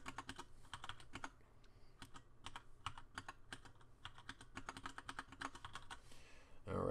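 Quick, light clicks of typing on a computer keyboard come in short bursts and pauses, fairly quiet and close, with no talk over them.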